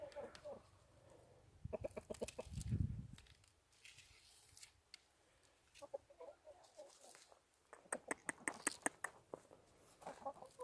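Chickens let out into a garden cluck in short bursts close by, with scattered bird calls and some quiet background noise between them.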